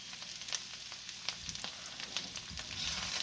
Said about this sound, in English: Just ramp it up rapidly to get that water boiling